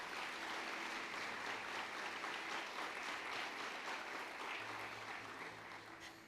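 Steady applause from a church congregation during a family service fills the space, a continuous wash of clapping that stays loud throughout before easing slightly at the end.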